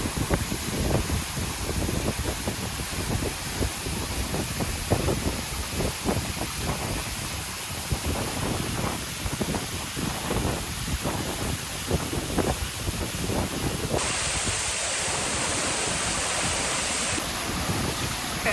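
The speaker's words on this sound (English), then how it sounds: "there's a little trail that follows a stream and it leads to a little waterfall" A small waterfall near East Sombrio Beach on Vancouver Island pours in a dense, continuous roar of splashing water, close and fairly loud, with gusty wind buffeting the microphone throughout.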